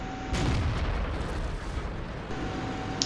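A tank cannon fires in World of Tanks, a sudden heavy boom followed by a long rumbling roar of battle noise that stays loud throughout.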